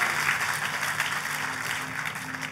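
Church congregation applauding together, a steady dense wash of clapping holding at even strength throughout, with no gaps or pauses.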